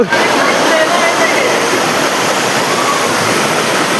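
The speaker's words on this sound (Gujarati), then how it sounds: "અહીંયાથી પાણી જતું છે" Dholumbar waterfall near the Garud cave in the Mini Saputara hills sends water crashing down in a loud, steady roar. The rushing, hissing sound fills the whole clip without a break.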